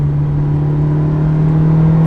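A Ferrari supercar's engine drones at a steady, even pitch while driving, a sustained mechanical hum from inside the cabin with no talk.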